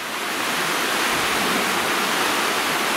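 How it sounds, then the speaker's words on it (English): Continuous rushing of water flowing down a stream, a steady broad hiss and gurgle, loud and close with no other sounds. "Nice little swish of water coming down here today."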